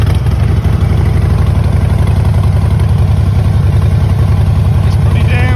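A 2012 Harley-Davidson FXS Softail Blackline V-twin idling close by, a steady loud lumpy low-pitched throb that holds even and unbroken throughout.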